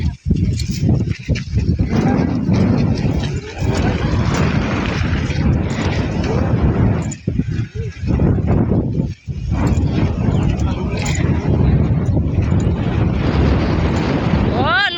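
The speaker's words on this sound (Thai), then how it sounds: "ลมแรงมากเลยหนู โอ้คือลมแรงแท้ละ" Strong wind buffets the microphone in heavy, continuous low rumbling gusts for the whole stretch, with a few brief dips, while people walk home outdoors.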